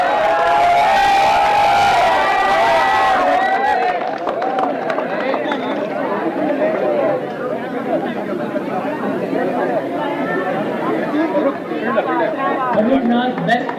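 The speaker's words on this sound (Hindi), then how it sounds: "जोरदार तालियां फर्रुख नाज के लिए" A crowd at a school prize distribution ceremony at Jamia Senior Secondary School fills the hall with loud, continuous cheering, clapping and children's shouting, starting with an announcer's voice over the noise.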